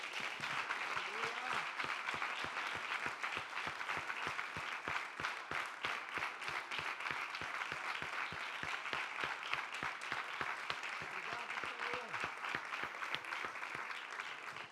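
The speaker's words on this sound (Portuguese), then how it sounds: "Vamos aplaudir forte a presença de Deus." A congregation at a Quadrangular church service claps steadily and loudly, many hands in a dense, continuous stream that runs without pause for about fifteen seconds.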